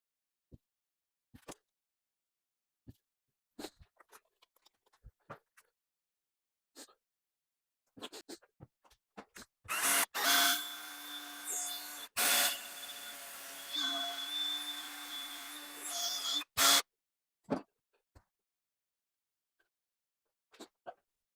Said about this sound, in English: let me sand it and polish it and then check the after